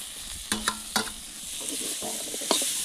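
Potatoes go into meat that is already frying in a pan with onion and chilli for a village-style curry. The sizzle is steady and close, broken by a few sharp scraping stirs.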